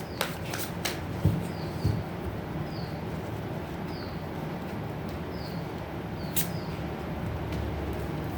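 Tarot cards are shuffled by hand in a quiet room, a few crisp snaps at first and then a steady, soft riffling rustle up close, with no one speaking.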